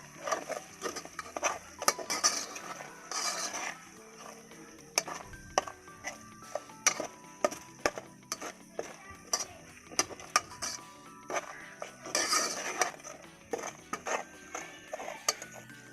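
A spoon scraping and clinking around a pan of potato, carrot and pea curry, close and steady, with irregular metallic taps and scrapes spread throughout and a faint voice at times.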